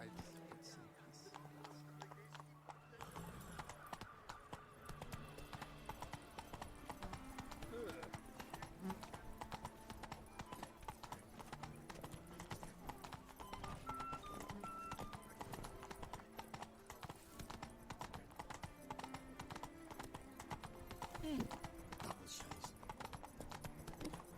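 Hooves of a horse clip-clop steadily in The Witcher 3 video game, a continuous brisk trotting rhythm over background game music, with someone talking intermittently over it.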